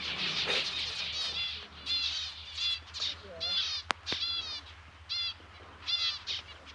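Small finch-like birds call in quick chirping bursts amid cactus garden plants, a chorus of repeated high twittering phrases over steady low background hum, with one sharp click partway through.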